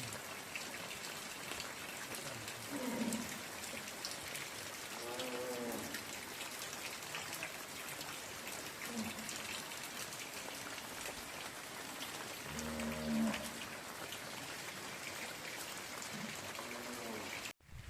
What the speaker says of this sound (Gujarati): ધીમો ધીમો વરસાદ ચાલુ થયો છે બપોરનો